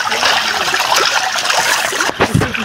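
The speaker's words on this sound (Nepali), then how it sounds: "अब खोला आयो" Close, loud water from a village stream rushes and splashes continuously, with bubbling trickles and a few brief surges near the end.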